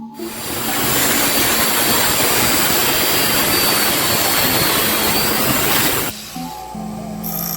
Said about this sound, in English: we're just gonna cut it here, cut it off